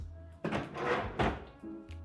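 A kitchen cutlery drawer slides open or shut with a couple of close, loud broadband sweeps and a soft thunk, heard alone over a low hum.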